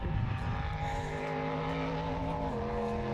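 Race car in the Pines Enduro, car 412, passing the finish line in a pine forest, its engine a loud, steady drone that holds throughout with a slight pitch shift near the end.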